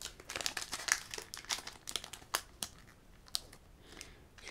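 The foil wrapper of a Pokémon trading card booster pack being carefully torn open, giving close, quiet crinkling and crackling in quick irregular bursts that thin out toward the end.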